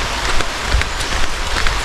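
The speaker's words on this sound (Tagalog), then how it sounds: "Ay, ulan man ay." Rain pouring down steadily on a farm with fruiting crops, a constant loud wash of drops hitting surfaces, close and unbroken, with no voices.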